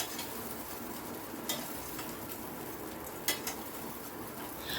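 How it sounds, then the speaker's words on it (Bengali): Mung dal snacks fry in a pan without oil while being stirred, a steady close sizzle broken by a couple of sharp scraping clinks of the utensil against the pan. "দেখুন, একটু নাড়াচাড়া করে এগুলো একটু ফ্রাই করে নিচ্ছি"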